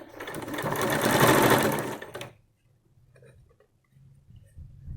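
A sewing machine stitches a face mask seam with a 1/2 inch seam allowance. It runs in one loud, steady burst for about two seconds, then stops, leaving faint handling noises.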